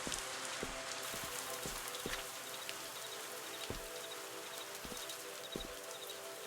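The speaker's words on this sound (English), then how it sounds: "Rain!" Steady rain falls in the video game Viewfinder, a soft, even hiss with scattered drops tapping at irregular intervals, heard alone without talk.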